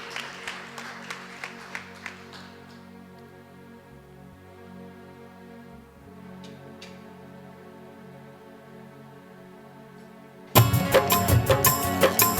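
A congregation at St. Adrian's Church in Dhamola, Kaladhungi, gives thanks during adoration. Soft, sparse music plays, then a sudden loud wave of clapping erupts and continues to the end.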